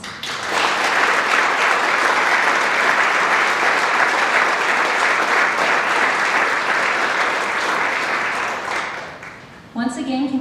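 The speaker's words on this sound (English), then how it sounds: "Please join me in showing our gratitude by giving everyone a round of applause." Sustained audience applause at a school National Technical Honor Society induction ceremony, a loud dense wash of clapping holding steady for about nine seconds before fading out, followed by a brief voice.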